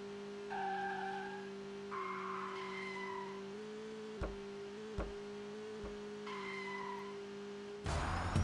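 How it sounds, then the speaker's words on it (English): Skiddy Car mobile game sound effects over a steady engine drone, with tonal bleeps, a couple of sharp bumps, and a bright noisy burst of skidding tires at the end. "Great sound effect, skidding wheels, level complete"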